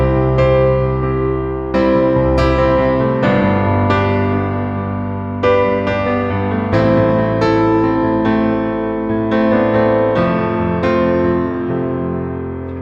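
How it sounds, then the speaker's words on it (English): Piano chord inversions played in a steady rhythmic pattern, full resonant chords struck repeatedly with sustained overlapping decay, a continuous close solo performance. "Another really cool trick to learn playing chord inversions is to apply rhythm patterns to those inversions."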